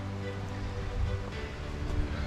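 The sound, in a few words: rain falling on a hiking trail to a waterfall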